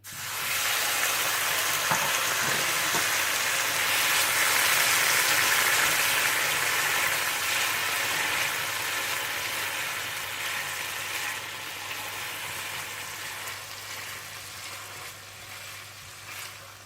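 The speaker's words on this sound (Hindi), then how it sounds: "इसी पैन में आप अनानास को फ्राई करके निकाल लीजिएगा।" Pineapple pieces fry in a pan with a steady, close sizzle and crackle that stays fairly even throughout, easing slightly toward the end, with no talking.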